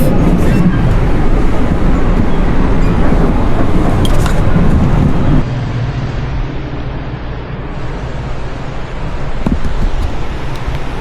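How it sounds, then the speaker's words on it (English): A passenger train rumbles along the rails in Spain near San Sebastian, a loud, continuous rolling roar heard from inside the carriage that drops to a lower, quieter drone halfway through. "now we're finally on train number 5"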